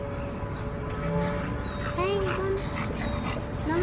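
A stubborn female dog on a property whimpers with thin, rising whines and a few short yips, moderately near, over steady background noise and a low hum.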